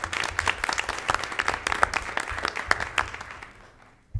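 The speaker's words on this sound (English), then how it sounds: "round of applause for Miss Nina Schmetterer" Applause from an audience at a school board of education meeting, a brisk burst of clapping lasting a few seconds that thins out and fades away near the end.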